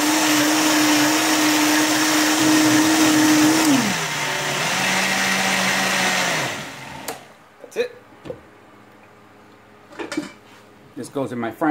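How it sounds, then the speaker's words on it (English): An electric blender purees soaked beans with their liquid in a loud, steady whir that drops in pitch as the load thickens, then cuts off, followed by clinks of the jar and kitchenware. "But I'm just gonna go ahead and refry all of it, liquid. And I'm gonna puree it."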